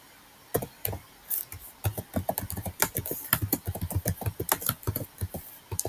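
Irregular bursts of clicky keystrokes on a computer keyboard while a folder name is typed in Google Form, close and clear, with short pauses between runs of keys.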